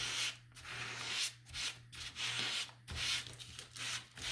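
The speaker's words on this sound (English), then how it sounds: "I'm gonna come back and sand this one" A small craft piece is sanded by hand with soft, rhythmic scratchy strokes, about two per second, close and quiet over a faint steady hum.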